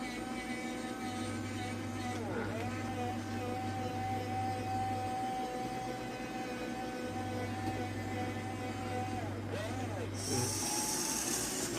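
A model 1550 backhoe with a servo system swings around 360 degrees: its diesel engine drones steadily up close while a hydraulic whine rises and holds for several seconds, with a low pulsing hum underneath.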